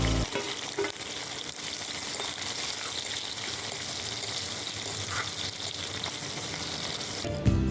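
Mustard seeds, cumin, chopped onion, green chili and curry leaves fry in hot oil, a dense, even, loud sizzle that starts abruptly and holds steady for several seconds, nearby and without speech.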